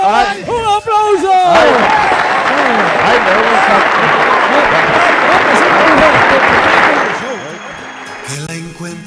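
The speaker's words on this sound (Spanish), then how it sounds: "¡un aplauso!" Loud audience applause swells right after an excited shout, a thick wash of many hands with cheering voices over it that holds for several seconds before thinning out as talk returns.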